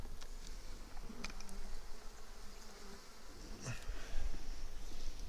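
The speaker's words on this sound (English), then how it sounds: "Looks like amazing bees." Honey bees buzz around a hive during honey harvest preparation, a steady, close, droning hum with occasional louder passes and no talk.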